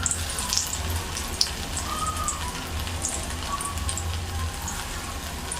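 Chicken sizzles in butter in a pan, giving a steady, close crackling hiss with scattered pops and no talk over it.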